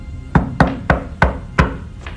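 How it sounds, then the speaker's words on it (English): Five firm knocks on a wooden door in a tabletop roleplaying session, evenly spaced and close, followed by a fainter sixth rap, with no voices. "I'm gonna just knock on the door then."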